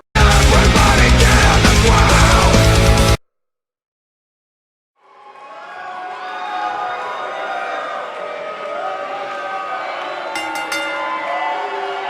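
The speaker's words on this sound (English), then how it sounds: "We've got an animated crowd here tonight" Wrestling arena crowd at an NXT show cheering, a broad roar that swells in after a loud burst and a moment of silence, then holds steady and fairly loud.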